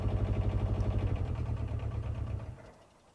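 Leguan 190 spider lift engine idling with a steady, throbbing low rumble up close. Near the end it dies away as the engine shuts off.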